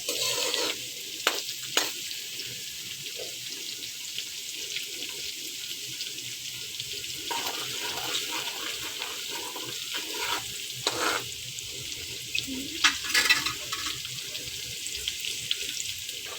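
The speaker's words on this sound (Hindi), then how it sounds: "इस तरह बारीक जो हम चॉप करते हैं लहसुन और अदरक, ये बहुत जल्दी फ्राई हो जाता है" Finely chopped garlic and ginger fry in a pan for a vegetable curry base, giving a steady close sizzle with occasional stirring scrapes throughout, no talking.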